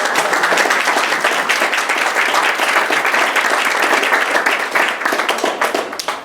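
An audience at a museum talk applauds, with dense sustained clapping that holds loud and even before thinning at the end.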